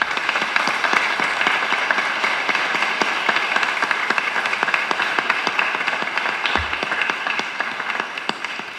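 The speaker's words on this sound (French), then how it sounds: "on vous applaudit avec cœur" Congregation at a Saint Anne church feast breaking into sustained applause, a dense, even wash of many hands clapping nearby, steady for several seconds and gradually thinning.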